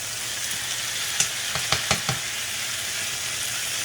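Steak searing in a hot pan gives a steady, fairly close sizzle, with a few sharp clicks and scrapes from stirring or turning partway through, no voices.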